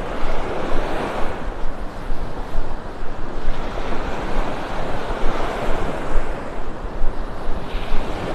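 Ocean surf washes steadily onto Vanderbilt Beach in North Naples, with continuous broadband roar of breaking waves and some wind buffeting the microphone, no talking.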